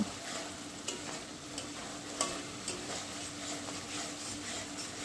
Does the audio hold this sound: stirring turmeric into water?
yes